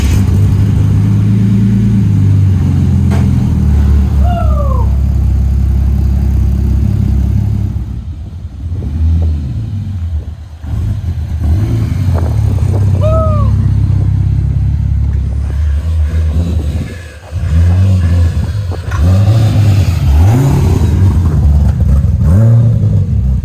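A Ford EF Falcon fitted with a Barra engine pulls away with a loud, deep exhaust rumble that rises and falls as it revs, close at first and carrying on steadily throughout.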